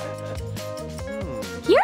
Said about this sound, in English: That's your dog!